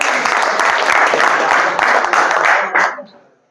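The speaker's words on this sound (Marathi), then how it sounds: "टाळ्या वाजवा याच्यासाठी" Audience applause from a room of people, dense steady clapping for about three seconds before it quickly dies away to silence.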